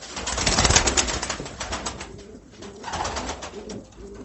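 Çifttepe pigeons and their young squabs coo inside a loft, soft throaty coos and rustling close by, loudest at first and then easing into quieter murmurs.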